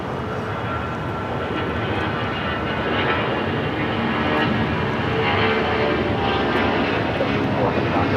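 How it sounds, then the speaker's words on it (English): A Delta Boeing 757 airliner at LAX, bound for Mexico City, roars loud and steady with broadband engine noise that swells slightly over several seconds, with no one speaking over it. "Delta 757, this flight heading to Mexico City"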